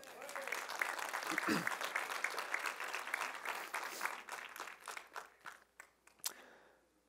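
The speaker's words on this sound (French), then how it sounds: "Est-ce qu'on peut les applaudir?" A crowd claps and applauds steadily, dense and fairly loud, then thins into scattered claps toward the end.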